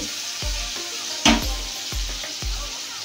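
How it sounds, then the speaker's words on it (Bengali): Chopped garlic and tomato sizzling steadily in hot oil in a pan, a loud continuous fry broken by soft thumps of stirring and one sharp spattering burst, with no talk. "টমেটো কুচি, রসুন আর টমেটোটাকে তেলের সাথে নাড়াচাড়া করে 2 মিনিট ভাজা ভাজা করে নিচ্ছি"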